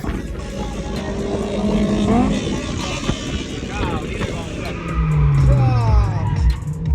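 A Honda S2000 skidding and losing control while driven hard down a mountain road: a loud, close engine roar with rising and falling tire squeals sweeping across the clip.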